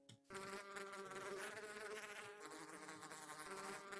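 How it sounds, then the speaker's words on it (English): A bee in Minecraft buzzes steadily and close, a continuous droning hum with wavering pitch that starts abruptly after a brief pause and carries on without talk. "That's a bee working as intended."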